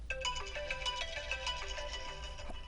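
A new iPhone plays its ringtone at low volume, a bright repeating melodic pattern of chiming notes that runs steadily for several seconds over a low background hum.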